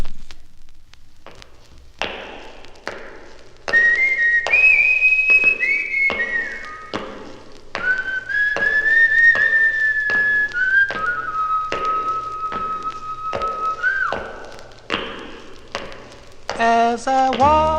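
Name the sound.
whistling in 1957 record Walkin' and Whistlin' Blues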